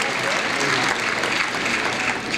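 Audience applause at an annual community event, a dense, continuous clapping from a crowd throughout, with some voices mixed in.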